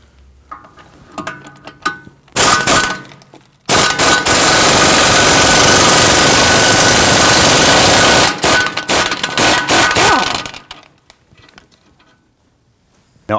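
A power tool loosens a 15mm knuckle clamp bolt on a Volvo XC60 front strut, giving a short buzzing burst and then a loud sustained whir lasting several seconds. Softer rattles and clicks come before and after.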